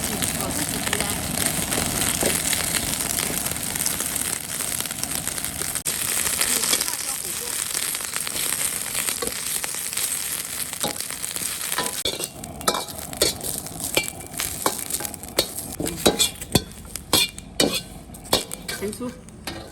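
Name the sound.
chili peppers stir-frying in a wok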